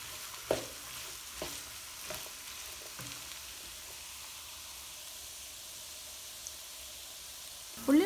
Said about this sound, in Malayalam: ഉള്ളി നന്നായിട്ടൊന്ന് വഴറ്റിയെടുക്കാം.